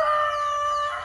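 A Brahma rooster crows in one sustained, strained call up close, steady and fairly loud, with no talking over it.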